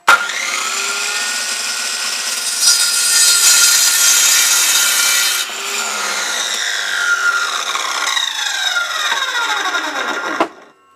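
A power saw cuts through timber for workbench legs, a loud continuous whine that shifts pitch partway through before winding down and stopping near the end.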